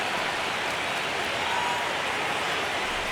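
A stadium crowd in a baseball video game set in the ninth inning of a one-run MLB All-Star Game keeps up a steady, dense roar, loud and unbroken throughout.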